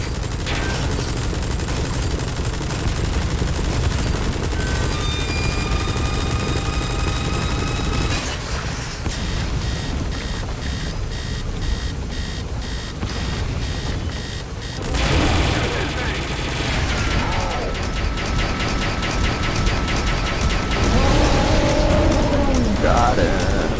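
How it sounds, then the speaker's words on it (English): A helicopter-mounted minigun fires in the video game Metal Gear Solid V: The Phantom Pain, sending out dense bursts of rapid gunfire over rotor drone and game effects. Voices speak over it in places. "Use the chopper's minigun."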